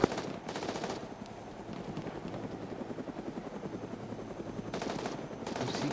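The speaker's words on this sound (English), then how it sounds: "Looked like a Humvee that was shooting us." A Humvee rakes the player with rapid machine-gun fire in a military video game set in Syria, steady bursts of shots layered over a continuous helicopter-like rotor drone, fairly faint overall.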